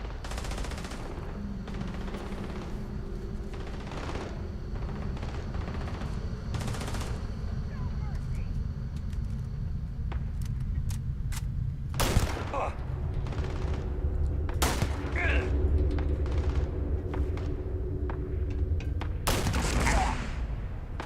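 Gunfire in the video game Starfield rings out as scattered shots and short bursts over a steady low hum, with a few louder cracks, while people talk intermittently.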